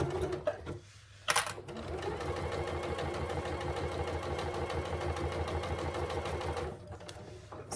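A sewing machine runs steadily on a long basting stitch, joining foam to the exterior body pieces of a zip pouch close to the seam edge. After a brief pause near the start it hums continuously at close range, with no talking.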